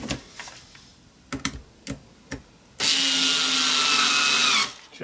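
A small cordless lithium-ion drill runs in one steady, loud burst of about two seconds, with scattered knocks and handling clicks before it and a brief clatter after.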